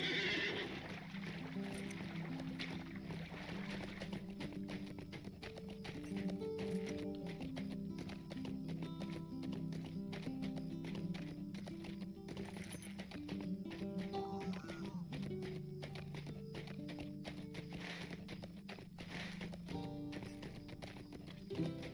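A horse neighs over steady clip-clopping hooves in Lord of the Rings Online, set against continuous game music with a dense, busy backdrop.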